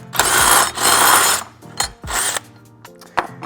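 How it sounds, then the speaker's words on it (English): A power drill bores through the sheet metal of a Mercedes Sprinter NCV3 van in several loud, close bursts of high whining grind, each stopping abruptly with short gaps between. "I'm trying to keep my drill as straight up and down as possible so that my hole that I'm drilling is right on"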